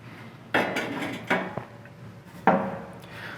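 Metal parts being pulled from an Everdure gas grill, with three sharp clanks and rattles spaced about a second apart over a quiet background.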